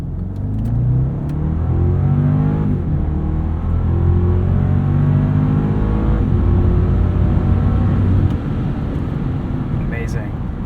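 A 2015 BMW Alpina B6 Gran Coupe accelerates hard, its engine a steady, loud rumble that climbs in pitch as the revs build, heard from inside the car.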